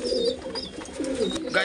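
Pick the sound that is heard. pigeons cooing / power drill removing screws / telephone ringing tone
pigeons cooing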